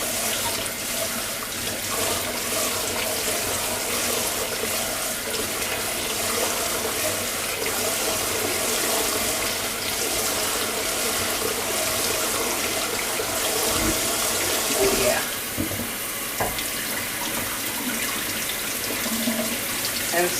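Water from a kitchen sink tap running steadily as blueberries are rinsed for freezing, a loud continuous splash with small shifts in the flow and faint clatter.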